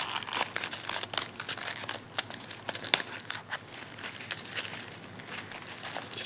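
Crinkling and crackling of a sealed 1948 Five Brothers pipe tobacco package being torn open, with close, continuous papery rustles and sharp crunchy snaps throughout.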